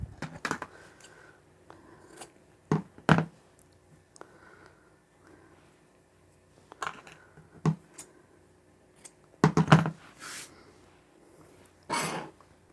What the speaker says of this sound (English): And then we can trim off that stitched end.